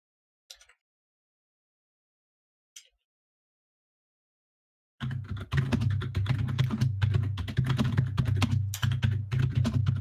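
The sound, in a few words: typing on a computer keyboard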